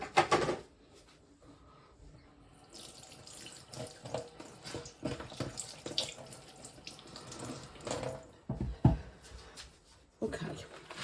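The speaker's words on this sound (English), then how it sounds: "Right, I'm going to wash my hands." Tap water runs steadily into a sink while hands are washed, a soft continuous splashing with a few brief louder bursts and knocks near the end.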